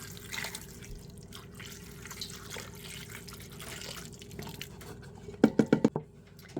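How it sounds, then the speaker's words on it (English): Broth poured into an Instant Pot gives soft liquid trickling and dripping sounds, faint at first, followed by a brief run of louder splashing glugs near the end. "So I'm going to pour that in."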